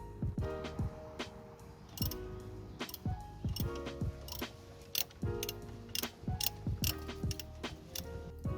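A ratchet wrench loosening engine torque mount bolts, repeated quick clicking bursts with short pauses between strokes, close and clear with no talk.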